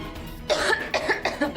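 A woman coughs in a series of sharp, raspy bursts, close and fairly loud, with brief pauses between them.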